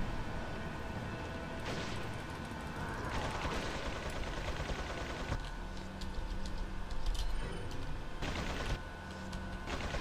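Turret gunfire in the Resident Evil 4 video game, with several turrets firing from different sides: a dense, continuous rattle of rapid shots with louder bursts near the end, steady and close throughout.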